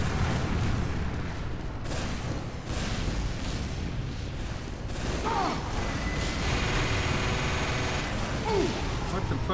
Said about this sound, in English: What the fuck was shooting?